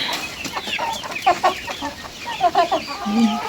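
Kuchinsky chickens and roosters on a farm cluck and chatter in a close, busy flock, with short overlapping calls throughout.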